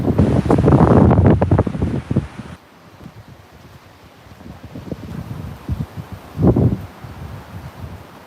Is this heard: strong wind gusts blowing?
yes